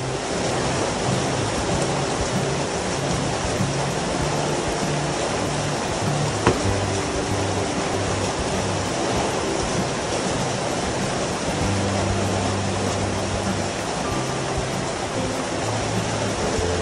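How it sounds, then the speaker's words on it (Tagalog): Heavy rain pours down in a dense, constant hiss, loud and unbroken, with no voices over it and only a single brief knock partway through. "Grabe yung ulan mga idol"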